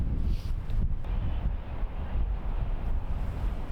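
Steady wind buffets the microphone on a cold, windy golf course, a loud low rumbling roar that swells and dips without pause.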